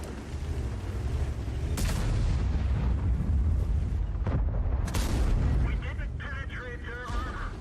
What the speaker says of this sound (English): It looks like the Super Conqueror penetrated my tank next to its cupola with an APCR shell.